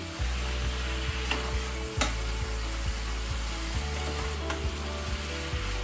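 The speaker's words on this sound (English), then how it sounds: "I don't like overcooking my bean sprouts, so I'll just kind of stir fry them" Bean sprouts stir frying in a pan, a continuous close sizzle with a low rhythmic hum underneath and occasional sharp scrapes and taps of the utensil.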